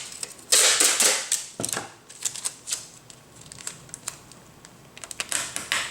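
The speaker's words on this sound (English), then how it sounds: "I use a slightly longer piece of tape for this second bundle because I want the tape to go all the way around 20 books" Packing tape pulled and wrapped around a bundle of twenty comic books, with bursts of ripping, stretching and crinkling up close, loudest early and coming again in shorter strips.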